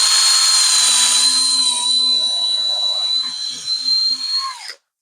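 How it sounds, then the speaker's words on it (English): A power drill runs loud and close in one continuous whine for nearly five seconds, driving a screw into wood, its pitch sagging slightly near the end before it cuts off. "we'll put the drill in first, but we'll throw a screw right into there"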